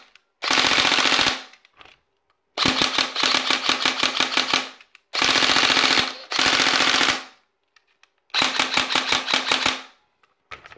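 Ternisoftair MK-ZERO airsoft rifle with a Marui recoil NGEN mosfet firing on full auto from a 7.4 V battery, in four loud, rapid mechanical bursts of snappy shots with brief silences between them.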